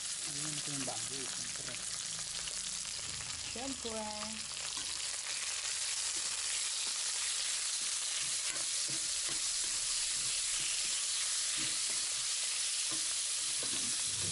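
Chopped pork dropped into a pan with browned garlic and onion sizzles and fries steadily and loudly, with some stirring, while a person speaks briefly near the start.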